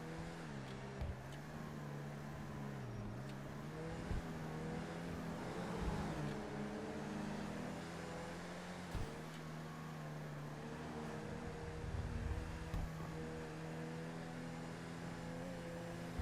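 A steady video game motorcycle engine drone hums throughout with faint pitch shifts, cruising at moderate speed, soft and somewhat distant with occasional small bumps.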